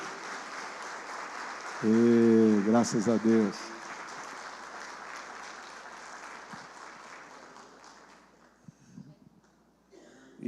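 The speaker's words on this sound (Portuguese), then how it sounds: "Vamos aplaudir essa família?" Church congregation at a family-month celebration service applauds a family, a long stretch of soft, steady clapping beneath a brief spoken phrase and a short sung or voiced tone early on, thinning out toward the end.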